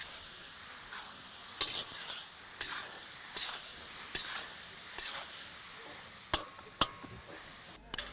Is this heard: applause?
no